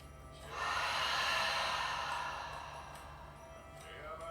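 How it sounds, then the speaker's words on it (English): A deep, slow breath in and out during a gentle hatha yoga session, a single soft airy swell that rises, holds broadly and fades over a few seconds, close and alone. "last, biggest inhale and exhale"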